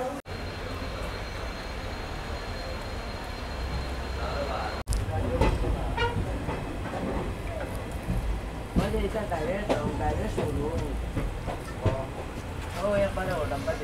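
A train pulls out of Katakhal station on the Agartala to Silchar run, giving a steady broadband rumble and rattle that grows fuller after a brief jolt midway, with voices murmuring faintly underneath.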